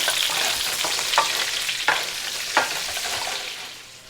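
Pork ribs frying and browning with onion in a pan, a dense, steady sizzle with a few sharp spatula knocks spaced about a second apart, close up, no speech.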